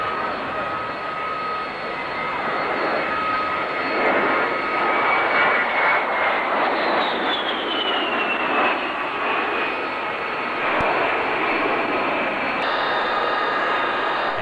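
A B-52 bomber at an airshow passes overhead with a loud, sustained jet roar that swells and holds across the whole stretch, a falling whine sweeping through the middle as the big aircraft moves past.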